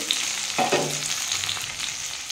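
Onion hits hot oil with white cumin seeds in a pan, a steady loud sizzle swelling briefly as the pieces drop in, with light stirring scrapes.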